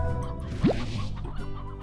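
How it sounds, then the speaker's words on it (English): Chickens in the Slime Rancher video game give soft, quiet clucks, including one short rising squawk, over a low steady background hum. "And I'll grab some chickens."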